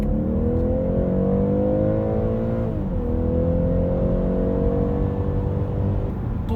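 A BMW X3 xDrive30e plug-in hybrid accelerates hard in sport mode, a loud, close engine and motor whir rising steadily in pitch, with a brief dip like a gear change midway, and no talk.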